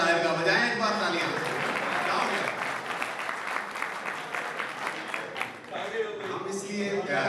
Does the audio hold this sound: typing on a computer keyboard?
no